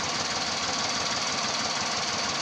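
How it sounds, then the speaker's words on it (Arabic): Volkswagen Polo engine running with a shudder, heard as a dense, steady mechanical clatter and hum that stays at an even, loud level throughout with no voices. "عندي بوليسيت فيها رعشة في الموتور"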